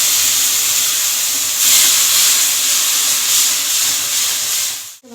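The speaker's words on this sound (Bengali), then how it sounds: "এটা ভাজা হয়ে যাচ্ছে বলে আমি অল্প একটু জল অ্যাড করলাম" Steady, loud hiss of steam as a little water hits potol and potatoes frying in a pan, continuous for about five seconds, then cutting off abruptly.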